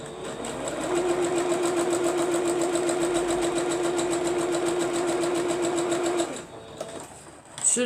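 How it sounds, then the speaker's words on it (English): A sewing machine runs steadily, stitching two fabric pieces together for a pencil quilt block with a close, even mechanical whir, then stops abruptly near the end, followed by a few handling clicks and no talk. "we're going to take these two and we're going to sew them to the side of it here"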